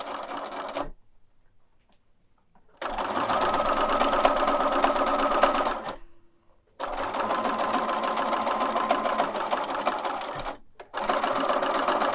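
A sewing machine stitching the sides and bottom of a fabric banner bag, running in two long, steady whirring bursts with a short pause and then a third burst starting at the end, close and clear.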